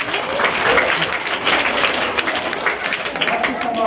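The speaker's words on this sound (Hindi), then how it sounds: "डॉक्टर साहब के लिए तालियां बजाओ।" Schoolchildren in a classroom applaud a pupil, a dense, steady patter of many small hands clapping together for a few seconds, fairly close and lively.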